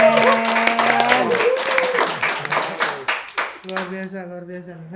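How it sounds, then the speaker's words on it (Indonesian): An audience clapping on a campus podcast set, a burst of applause heard under talking and over a sustained musical tone, fading into a few scattered claps as a held chord rings on. "Oke, tepuk tangan."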